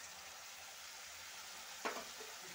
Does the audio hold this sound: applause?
no